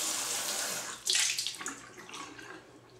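A tap runs while a shaving brush is wetted for lather with Williams shaving soap in an old mug. Close, soft splashing and gurgling comes first, then a brighter burst of water that slowly fades away.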